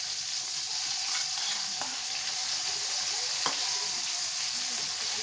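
Coriander, onion and green chilli pastes sizzle in hot oil for a carp curry, giving a steady broadband hiss with a couple of sharp clicks and no talking.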